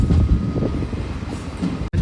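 Onboard the Pamani Express, a train rolls along a single-line track with a loud, continuous low rumble and rattle of the carriage and wheels, cut by one brief dropout near the end.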